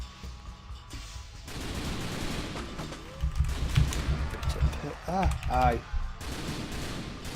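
Gunfire from shooting zombies in The Typing of the Dead: Overkill, a series of thumping shots under game music and effects, with a voice briefly speaking.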